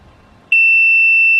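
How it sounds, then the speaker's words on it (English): A Hansshow motorised Tesla frunk control unit gives one loud, steady electronic beep, a sustained tone starting abruptly after a quiet moment and holding to the end while the button stays pressed. "you press and hold the button again until you hear 2 beeps"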